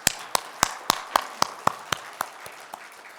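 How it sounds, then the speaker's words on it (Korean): A church congregation at a New Year's worship service claps in unison, about a dozen crisp, evenly spaced claps that gradually soften and trail off. "그 하나님께 영광의 박수 올려드리겠습니다."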